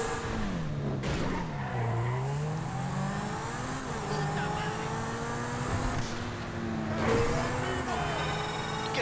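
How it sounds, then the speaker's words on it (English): A Pegassi Zentorno supercar in the video game GTA 5 revs and shifts, its modified exhaust note rising and dropping in pitch as it accelerates, with faint tire noise and steady engine drone throughout. "The exhaust sound is most commonly here on the Zentorno"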